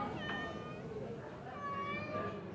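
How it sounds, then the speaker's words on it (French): Several cats meow at an animal shelter housing about 150 cats, two or three drawn-out cries close by over a low murmuring background. "150 chats cohabitent ici."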